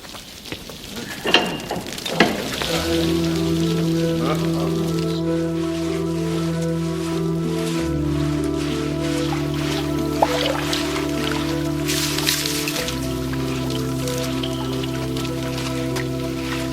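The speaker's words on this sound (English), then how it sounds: "And with all this rain, the river is rising fast." Heavy rain falls steadily by a fast-rising river, a continuous broadband hiss that runs throughout beneath loud, sustained orchestral chords.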